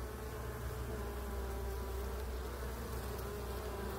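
Dense, steady buzzing of many bees at an open beehive during a summer hive inspection, close and continuous for the whole stretch with no talk over it.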